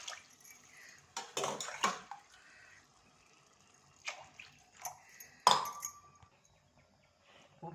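Water poured from a tumbler into seeraga samba rice in a cooking pot for biryani, heard as short splashing bursts with a few light metallic clinks of pot and vessel, close by with quiet gaps between.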